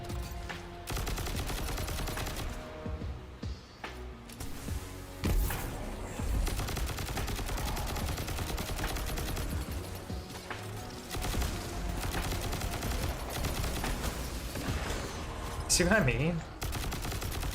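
Repeated rapid gunfire rounds in Destiny 2, dense bursts of shots continuing across the stretch at close range, with someone briefly talking over them.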